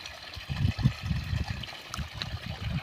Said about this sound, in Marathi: बघा कसं पाणी वाजायला लागले